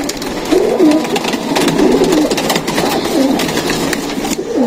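Pigeons in a loft give low, rolling coos in several bursts, fairly close and with no voices, over a faint background rumble.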